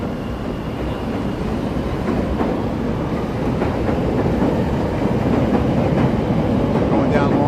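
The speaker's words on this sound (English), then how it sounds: "We'll get the train crossing Randolph here at Wabash. There it is, the pink line" Chicago L elevated Pink Line train crossing overhead at Randolph and Wabash, a dense, loud rumble and rattle of wheels on steel track that builds steadily as it passes.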